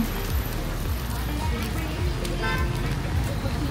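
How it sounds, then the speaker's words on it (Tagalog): Rain falling on a busy street in Saigon, a steady wash of patter mixed with passing cars and a horn toot, with voices talking over it. "It's raining in Saigon."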